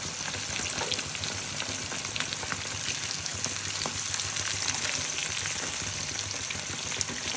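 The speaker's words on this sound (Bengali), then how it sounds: "দেখো ভাজতে বসিয়ে দিয়েছি" Food fries in oil in a pan with a dense, close sizzle that stays even and continuous, crackling like light rain, with no voices.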